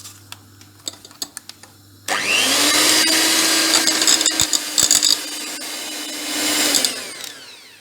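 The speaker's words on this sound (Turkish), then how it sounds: "bir tane vanilin, bir tane de kabartma tozu ekleyip en kısık ayarda karıştırıyorum" An electric hand mixer on its lowest setting beating cake batter with flour, vanilla and baking powder, a steady close whirring drone after a few quiet knocks, with a loud scraping rattle of beaters against the bowl.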